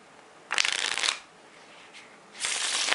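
Playing cards riffle shuffled by hand in two quick bursts of crisp, rapid fluttering clicks, close and fairly loud, separated by a quiet pause.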